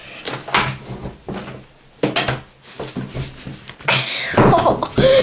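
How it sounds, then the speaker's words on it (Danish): A household door in a home kitchen setting is handled repeatedly, with several close wooden knocks and thuds, followed by a rushing clatter at the end. "Vi må ikke lege med dørene, Malte"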